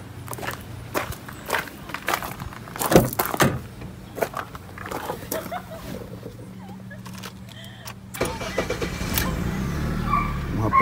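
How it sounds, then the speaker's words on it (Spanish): A 2008 Honda Civic cranks and starts, then runs with a steady engine rumble among clicks and handling noises inside the car, and the engine grows louder near the end. "prender el carro."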